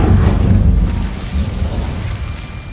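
The Incendio fire spell cast in Hogwarts Legacy, a loud deep whooshing burst of flame that roars, then fades into a sustained rumble.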